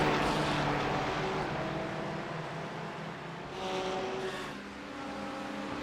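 Continuous engine roar of race cars in a racing video game, with a Ferrari, McLaren and Porsche battling on track, a steady droning whine that swells and fades slightly as cars pass, with no talking.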